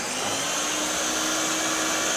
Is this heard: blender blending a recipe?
yes